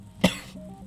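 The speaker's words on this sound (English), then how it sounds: "Just cough." A single short cough bursts out close and clear, followed by a faint throaty trailing sound in an otherwise quiet room.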